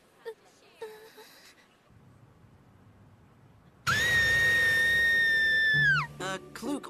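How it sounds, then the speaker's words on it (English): A high-pitched, sustained scream rises after faint dialogue in an English-dubbed episode of the Blue Dragon anime, holding loud and steady for about two seconds before breaking off into brief voices. "why are you screaming?"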